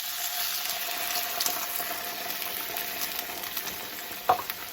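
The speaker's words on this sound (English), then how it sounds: "So now I'm going to pour in my orange juice and water, which will become broth" Orange juice and water stream into a hot risotto pan, giving a steady bright hiss and bubbling sizzle with a sharp clatter near the end, no voices.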